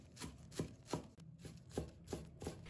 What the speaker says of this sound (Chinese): 葱叶切葱花。